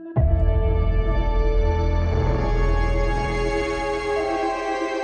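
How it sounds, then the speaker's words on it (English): One bright synth hit rings out and slowly fades over several seconds, a resonant ping-like tone with a long shimmering tail. "you got that sonar ping kind of thing happening"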